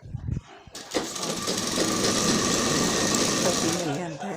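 A sewing machine runs steadily while stitching piping on a blouse back-neck design, a fast, even mechanical whir that starts after a few brief clicks and carries on for several seconds, close by.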